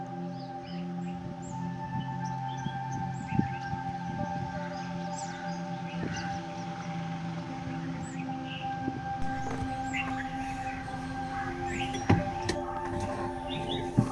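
Sparse, faint bird chirps scattered over a steady outdoor hum in an areca nut plantation, with occasional soft clicks and taps; no one speaks.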